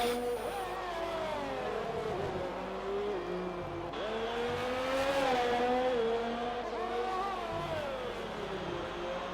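Race cars lapping the Singapore street circuit in a sim racing league event, a loud, close engine whine rising and falling through gear changes and braking zones, with brief squeals and no voices.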